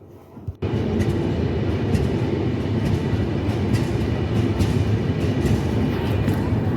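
The Ruposhi Bangla Express rolls into Bhanga railway station with a loud, steady rumble and faint rhythmic clatter of wheels, starting abruptly after a brief quiet moment.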